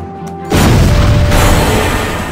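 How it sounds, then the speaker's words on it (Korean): A loud explosion in a Seven Knights game cutscene, a deep sustained boom that erupts suddenly after a quiet moment and rumbles on with a dense low roar, with no voices. "이 폭발은 무슨 일이야?"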